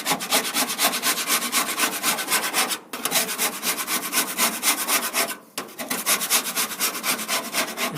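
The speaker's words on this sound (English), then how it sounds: "So I'm going to go ahead and continue scraping this" Steady back-and-forth scraping of a metal tool over a greasy Char-Broil infrared grill tray, close and continuous with a regular rasping rhythm, two brief pauses along the way.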